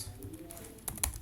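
Brief, close computer keyboard typing as code is entered, soft clicks with a couple of sharper keystrokes near the end over faint room hum.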